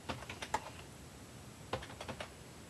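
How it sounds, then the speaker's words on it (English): Keys clack on a computer keyboard in two short bursts of quick, faint taps separated by a pause, close by in a quiet room. "I've got to type it in again"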